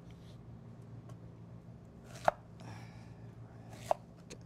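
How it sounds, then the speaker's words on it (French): A kitchen knife quarters pears or apples for a vegetarian dish, two crisp chops on a board about a second and a half apart, quiet between, with faint handling noise. "Maintenant, on va les couper en 4."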